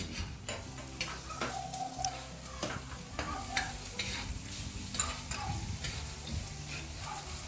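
Garlic and onion sautéing in a pan for a mussel soup, a low sizzle under repeated sharp taps and scrapes of a utensil stirring against the pan.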